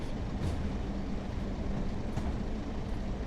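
A Class 142 Pacer train in a simulator game braking on a single-track line, giving off a steady, close low rumble with faint hissing bursts and no voices.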